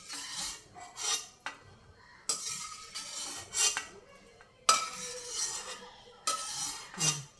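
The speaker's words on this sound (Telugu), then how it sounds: "ఈ మెంతికూర ఇదిగోండి చక్కగా ఇలా ఎర్రగా వేగాలన్నమాట, డీప్ ఫ్రై లాగా" A spoon scrapes and stirs fenugreek leaves frying in oil in a pan, arriving as repeated bursts of scraping and rattling with short pauses between strokes, with a soft sizzle underneath and no talking.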